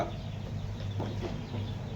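Chickens clucking in a rural Thai yard while people shoo them along, a steady murmur of fowl sounds at moderate distance with short, faint calls over a continuous low background.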